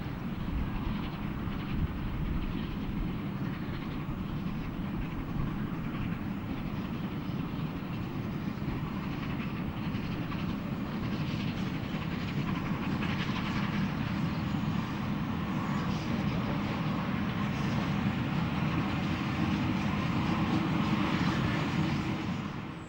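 Steam locomotive Taw Valley runs gently at reduced speed through the suburbs, giving a steady, continuous rolling rumble with faint rail clatter and no voices.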